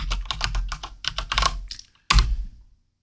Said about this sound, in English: I can just type in wine spritzer,